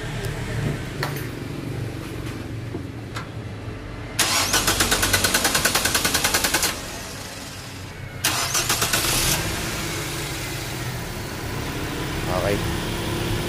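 A Nissan Almera 1.5 with intermittent power loss and a hot engine cranks briefly, catches and runs with a steady idle, then is cranked and started again, with someone talking over the engine.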